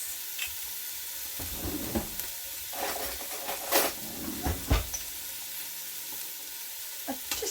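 Mushrooms frying in a Ninja 15-in-1 cooker, a steady close sizzle broken by stirring scrapes and soft utensil knocks against the pot, with no voices.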